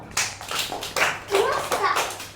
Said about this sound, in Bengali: একটা আগে হাততালি দিয়ে নাও